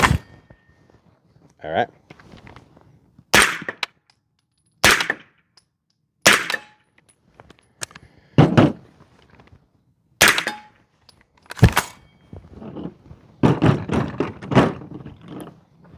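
Unsuppressed 9mm shots from a short ported barrel fired outdoors, about eight loud, sharp cracks spaced a second or two apart with brief echoes trailing each, and someone speaking briefly between some shots.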